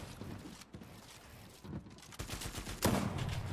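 Assault rifle fire in a battle royale video game: bursts of rapid gunshots crackle over busy background noise, growing louder and denser toward the end, with no voices.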